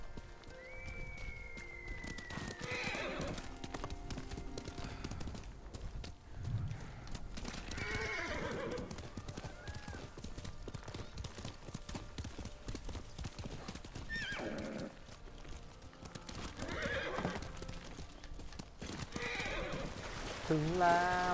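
In the video game Ghost of Tsushima, a horse's hooves clip-clop steadily throughout amid game ambience, with whinnies rising at intervals and a final neigh near the end.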